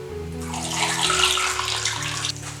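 Water running steadily into a cooking pot holding potatoes, a continuous splashing rush that swells in the middle and stays close and loud, with a low hum underneath and no talk.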